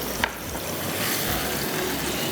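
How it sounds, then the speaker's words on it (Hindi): Chicken pan-frying in oil gives a dense, close, steady sizzle with a brief stirring scrape near the start, and no voices. "चिकन को अलग फ्राई कर देंगे, अच्छा। हल्का सा पैन फ्राई करेंगे।"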